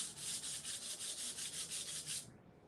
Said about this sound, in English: that's what I wanted to show y'all about scuff sanding